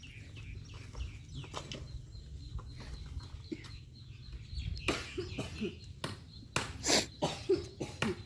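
Chickens cluck and call around a rural Thai home, with scattered soft clucks over a low rumble, then louder bursts and a flap near the end. No one speaks.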